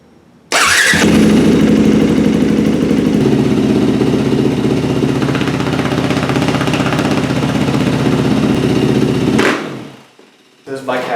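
A dirt bike being built as a dual sport fires up abruptly and settles into a loud, steady, chattering idle close by, running for about nine seconds before the engine cuts off.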